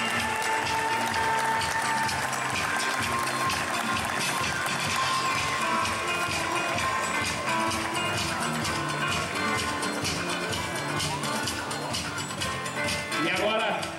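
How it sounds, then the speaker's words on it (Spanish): An audience applauds the runner-up at a tennis award ceremony for the ATP Challenger Tour Finals, continuous clapping lasting the whole span with a public-address voice speaking over it. "Uma salva de palmas para o vice-campeão."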